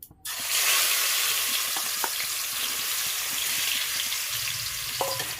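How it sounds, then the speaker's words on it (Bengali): Marinated chicken pieces frying in a pan over high flame, a steady loud sizzle that bursts in as the meat hits the oil and continues with a few light clinks near the end. "এবার এর মধ্যে আমি ম্যারিনেট করা যে চিকেনটা রেখেছিলাম ওইটাকে আমি একবার স্লাইড একটু ভেজে নেব"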